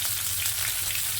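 Chopped capsicum fries in hot oil, a close, dense and even sizzle throughout with a soft stirring undertone and no talk.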